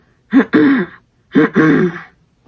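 A voice imitates quiet throat clearing for a false chord scream, twice, each a short breathy rasp followed by a low rumbling hum, close and fairly loud.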